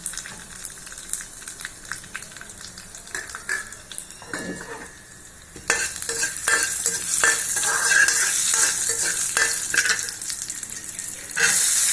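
Urad dal and chillies fry in a pan with stirring and light crackling, then break into a loud, steady sizzle that holds for several seconds before easing slightly near the end.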